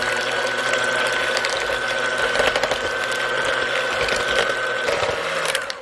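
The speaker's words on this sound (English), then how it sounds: "So now we're just going to go ahead and mix this up until it's thoroughly combined." A hand mixer whirs steadily and loudly as it blends banana bread batter with eggs and vanilla extract in a bowl. The grinding, rattling motor noise continues for several seconds, then eases off at the end.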